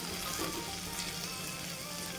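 Tomatoes fry in a pan with browned onion, giving a steady, close sizzle and crackle of hot oil that continues evenly without pause.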